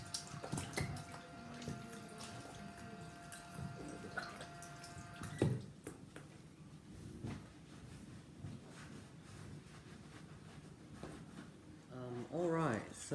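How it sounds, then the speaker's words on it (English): Tap water runs and splashes as hands are washed under it, an irregular wet hiss with drips and clatter, mixed with background sounds and a brief voice near the end. "First step, wash your hands."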